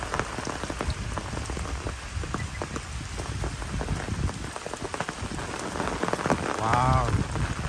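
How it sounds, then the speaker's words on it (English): Heavy rain on a rainy-season countryside walk to fish ponds, a steady loud patter of drops that continues without a break throughout. "it's a big raining now"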